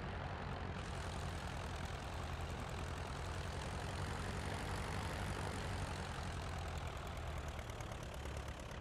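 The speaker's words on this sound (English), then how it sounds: "they sound like a tractor in real life, so this is very appropriate engine sounds" In Microsoft Flight Simulator 2020, the BlackBox Simulations Bulldog trainer's engine runs with a rough, tractor-like idle, a steady low rumble with a dense propeller throb that continues evenly throughout at a modest level.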